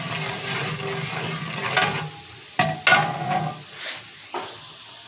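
Garlic and ginger sizzling as they are stirred in a pot of oil for village-style chana pulao, a steady close frying hiss with a few sharp clanks of the spoon against the pot.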